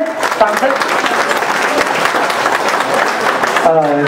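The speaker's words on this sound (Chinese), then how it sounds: "来，掌声，掌声。" Applause at a farewell-and-welcome banquet in Atlanta, a dense, loud burst of clapping from a seated crowd filling the room, with voices briefly audible underneath near the end.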